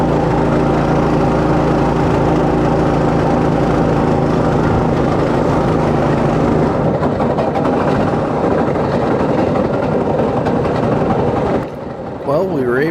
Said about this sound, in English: You can hear the engine chug-a-lugging along.